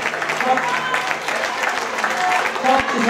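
Spectators at a girls' 800 m race at a Finnish athletics championship applaud and cheer steadily, a continuous patter of clapping from the stands while an announcer talks over it.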